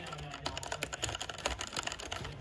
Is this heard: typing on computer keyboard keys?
yes